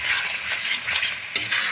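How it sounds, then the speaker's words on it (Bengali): Spice paste for Bengali-style mutton curry stir-fried in a pan, giving a loud, continuous close-up sizzle with swishing stirring strokes and one sharper scrape near the end. "মশলাটা কষাতে কষাতে আমি দিয়ে দেব সব রকম মশলা"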